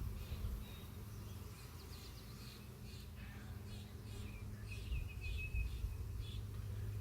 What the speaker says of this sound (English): These bees are so awesome to work with.